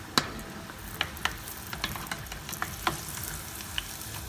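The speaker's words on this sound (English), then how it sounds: "oil is getting hot" Hot oil crackles and spits in a pan while sauce is started for cauliflower Manchurian, a low steady sizzle with sharp scattered pops and a few utensil taps, close and fairly quiet, without speech.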